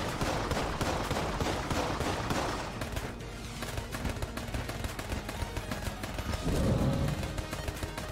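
Continuous stream of rapid cartoonish gunshots from the video game Exit the Gungeon, dense and steady throughout, layered with game music and effects, with a swelling burst near the end.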